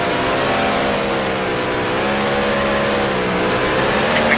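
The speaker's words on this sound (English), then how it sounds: "sends the car sideways up to 5th gear" An F5000 race car engine in Grand Prix Legends at Lime Rock roars loud and close, accelerating hard out of a corner with a steady, rising, buzzing howl that barely lets up.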